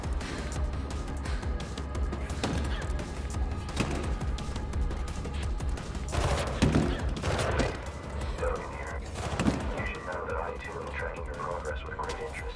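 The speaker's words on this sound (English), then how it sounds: "Stop shooting at me, you pricks" Gunfire rattles at the player in Mirror's Edge Catalyst, repeated bursts and scattered shots crackling over a steady game soundtrack, with someone talking over parts of it.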